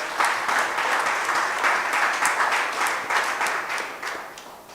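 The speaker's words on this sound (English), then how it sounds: "Give yourselves a round of applause." Sustained applause from a sizeable crowd at a community meeting in Bethel, Tobago, dense and steady clapping that rolls on without pause and slowly fades slightly.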